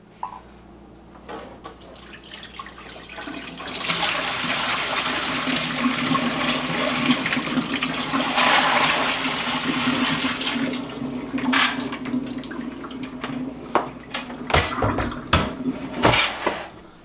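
Parts of a Milky Day milk pasteurizer washed under running water, a loud steady gush with clattering parts and metallic knocks near the end.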